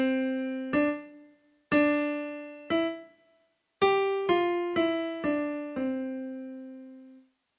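Piano plays the first bar of a phrase with joined, legato notes: eight clear struck notes in an uneven rhythm, some ringing longer, the last left to fade, played close and alone.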